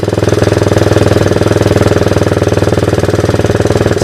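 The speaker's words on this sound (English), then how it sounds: "Idle turned up a little bit." Honda 185S ATC three-wheeler engine idling with the idle turned up, a loud, close, steady rapid chugging pulse that holds an even rhythm throughout.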